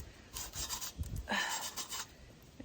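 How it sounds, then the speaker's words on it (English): Sandpaper scrubs flaky paint off a surface in a few short, soft rasping strokes, close and quiet, with no talking. "I'm just gonna have to use a piece of sandpaper"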